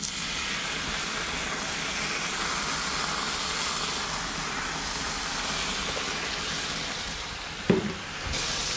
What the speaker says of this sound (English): let's go ahead and cook this bacon